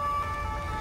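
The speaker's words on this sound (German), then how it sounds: "Ich muss noch die Sirene ausmachen." A police car siren in GTA 5, a steady electronic wail with sustained tones over a low vehicle rumble, brief and fairly faint.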